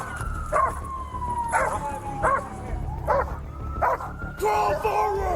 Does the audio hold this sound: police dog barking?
yes